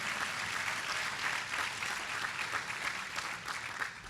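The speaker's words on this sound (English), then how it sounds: "Let's give him a round of applause" A crowd at a National Action Network event in Manhattan applauds Reverend Richardson with steady, dense clapping. The sound holds at an even level throughout, without speech over it.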